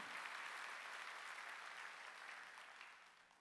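A church congregation claps together at a Sunday worship service, a dense, steady wash of applause that stays loud and then tapers gradually toward the end, with no voices over it.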